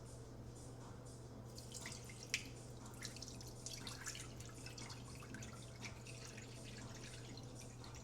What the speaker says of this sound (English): warm water into the bowl